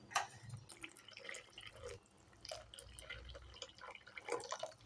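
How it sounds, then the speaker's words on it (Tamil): Tamarind water poured into a bubbling South Indian fish curry (meen kulambu) on the stove, a faint, quiet trickle and dripping of liquid that spans the whole moment with no talk. "இப்போ நம்ம புளி சேர்த்துக்கலாம்."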